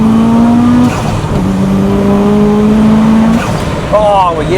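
A built 2.1-litre 500 bhp Subaru Impreza WRX STI engine pulls hard at flat throttle, a loud close droning tone climbing steadily, dropping with a gear change near one second, then surging again before a brief off-throttle burble.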